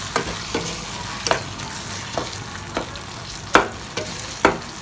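A spicy Telangana-style tomato curry is stirred with salt and chilli powder: a spoon scrapes the pan in about eight separate strokes, each a short gritty swish over a faint steady background, with no voices.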